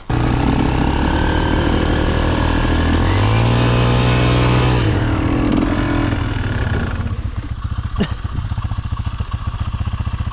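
A Minsk X250 motorcycle engine runs loud and close, its steady harmonic drone rising in pitch partway through before settling into a rougher, clattering idle.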